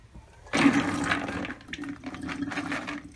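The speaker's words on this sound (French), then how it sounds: "Je vais égoutter les haricots à nouveau." Cooked beans being drained in a colander, water pouring steadily through for about three seconds after a sudden start, close and fairly loud with a rushing, splashing texture.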